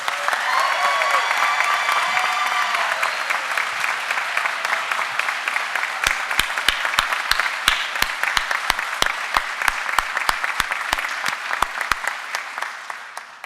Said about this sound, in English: How about another round of applause for Class 243?